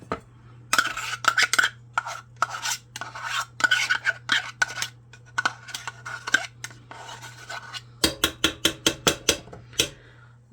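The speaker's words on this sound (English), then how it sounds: "scoop out as much as you can." Metal spoon scraping and scooping buffalo chicken macaroni and cheese out of a dish for a crock-pot, a run of close scrapes and clinks ending in a quick series of sharp, rhythmic taps against the pot, with a steady low hum beneath.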